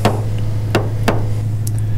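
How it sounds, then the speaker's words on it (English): Guitar frets being hammered into the slots of a neck during building, with three sharp, loud knocks spaced unevenly over a steady low hum, followed by a couple of lighter taps. "So here we're hammering again."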